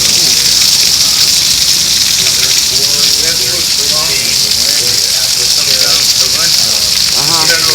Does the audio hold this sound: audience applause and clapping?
no